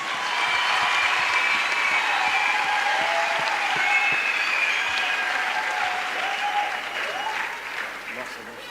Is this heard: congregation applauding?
yes